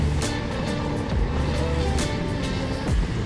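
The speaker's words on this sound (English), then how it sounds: "this DCT transmission just wants to continue to grab the gears every single turn" A Can-Am Maverick R X RS side-by-side with a DCT transmission drives a rough trail through hairpin turns, its engine droning loud and close with quick rises and dips as the gearbox grabs gears.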